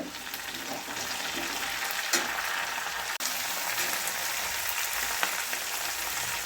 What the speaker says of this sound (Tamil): இலைகளை மட்டும் சேர்த்து வதக்கிக்கிறோம்.